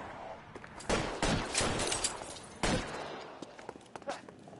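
Gunfire from a police shootout in a video game, with bursts of shots and a couple of sharp louder volleys over busy background clatter and what may be footsteps, lasting several seconds.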